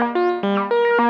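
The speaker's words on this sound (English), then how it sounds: "Reverb, now we're sounding nice." Bright Moog synthesizer notes sliding between pitches in a short phrase, with a lush reverberant wash trailing each note.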